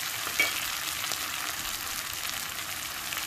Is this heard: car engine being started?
no